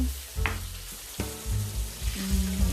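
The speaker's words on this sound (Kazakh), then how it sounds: "Қызартып, әдемілеп асықпай қуырсақ, балығымыз дәмді болады" Fish coated in flour or egg fries in a pan, sizzling loudly and close with bursts of crackling as the pieces are moved or turned.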